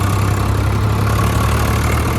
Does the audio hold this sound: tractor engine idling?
yes